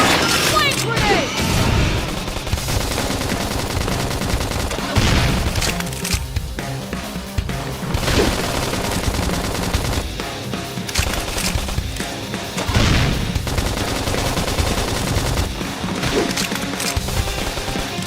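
Video game gunfire during a combat match, dense bursts of rapid shots and blasts recurring throughout, with game voices and explosions mixed in.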